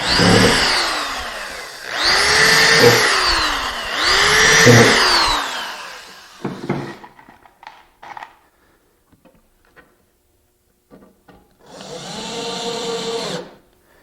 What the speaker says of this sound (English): I'll pre-drill with an 1/8 inch drill.